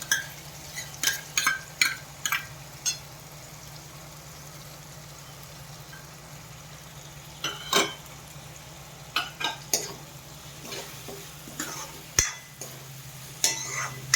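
Three large chopped onions sautéing in a pan for homemade hotel-style pav bhaji, with a steady low sizzle and scattered sharp clicks and scrapes of a spoon stirring, no talking.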